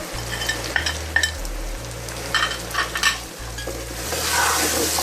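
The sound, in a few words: mutton frying and being stirred with garlic and ginger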